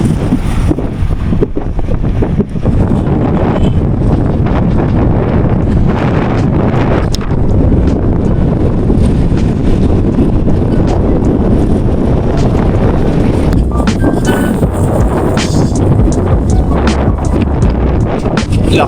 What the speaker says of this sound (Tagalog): Mas malakas na yung hangin dito.